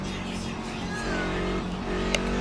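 A race car engine in a racing video game at Watkins Glen drones steadily with harmonic engine tones, shifting pitch as it downshifts for a right-hand corner and accelerates back onto the pit straight, with a voice talking over it.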